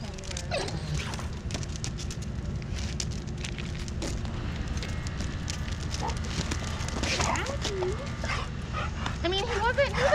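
A hyper dog at a dog-to-dog recheck yips, barks and whimpers in short bursts, with people talking in the background throughout.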